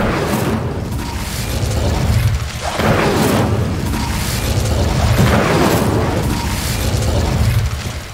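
Incendio fire spell cast in the Hogwarts Legacy video game, a loud roaring whoosh of flame that swells and fades in several waves, close and dense, with no talking.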